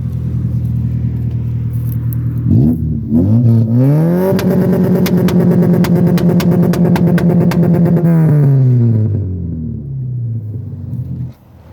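A Tofaş Şahin car engine with an open exhaust idles, then climbs and holds high revs against a homemade rev limiter, crackling and stuttering steadily for several seconds before dropping back down and fading.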